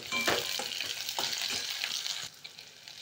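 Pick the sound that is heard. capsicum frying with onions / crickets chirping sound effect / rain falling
capsicum frying with onions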